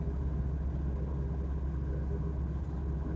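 A car travels the road from Kampala to Eldoret, heard from inside as a steady low rumble of engine and tyres, even and unbroken for a few seconds with no talking.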